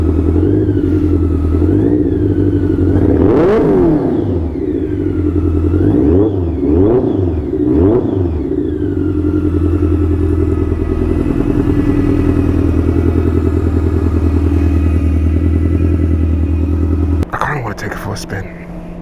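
A motorcycle engine, started after five months in storage, idles with a heavy, lumpy rumble, then revs up sharply several times in quick blips before settling back, loud and close.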